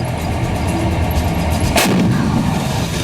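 An M777 howitzer artillery gun fires, a single sharp blast sounding about midway through, set within a continuous loud roar of wind-like noise.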